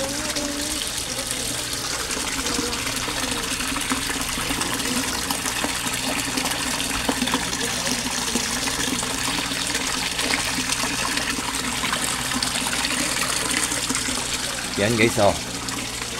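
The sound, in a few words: Aquaspeed submersible pump pumping water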